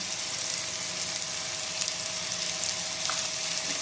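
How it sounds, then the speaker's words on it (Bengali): Ginger, garlic and green chilli paste fries in hot oil in a pan, giving a steady, continuous close sizzle with a few faint scraping touches and no talk. "আর এখন আদা রসুন কাঁচা লঙ্কাটাকেও ভালো করে একবার কষিয়ে নিতে হবে"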